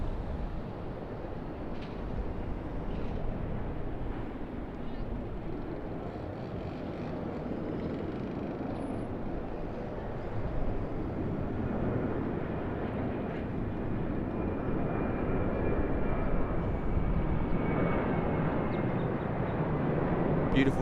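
A Qantas Boeing 737 departs Sydney off runway 34 right with a sustained, rumbling jet roar that swells gradually as it climbs away, continuous throughout with voices over it.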